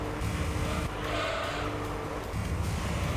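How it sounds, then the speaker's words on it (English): Car racing in Gran Turismo 3 with a loud, continuous engine roar and tire noise that swells and dips over a few seconds, the squealing rubber blended into the steady drone rather than standing out as sharp screeches. "Tire screeching super loud, that's lovely."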